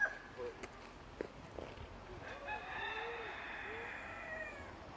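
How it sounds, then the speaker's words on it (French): Hens and roosters in a city park give faint, distant crowing and clucking calls, a few rising and falling cries over quiet outdoor background noise. "Des poules, des coqs."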